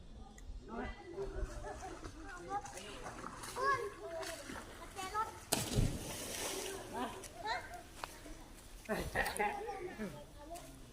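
Children bathing in water in rural Laos splash and slosh in irregular bursts at moderate distance, while several kids chatter and shout throughout.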